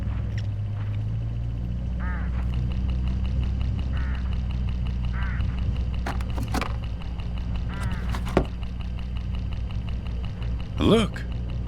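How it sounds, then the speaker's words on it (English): Hooded crows calling along a country road in the Hitchhiker mystery game, several short caws scattered over a steady low vehicle rumble, with a louder call near the end. "Look, hooded crows all along this road."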